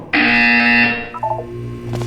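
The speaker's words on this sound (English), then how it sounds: "You will hear a buzzer." A sustained harsh electronic buzzer tone from the video game Portal 2 holds steady for about a second, then breaks into a few short blips before a softer tone lingers.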